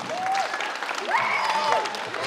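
Applause breaks out for a tournament team at a Christmas-tournament prize-giving in a sports hall, steady clapping with whistle-like tones and some voices mixed in across the whole stretch.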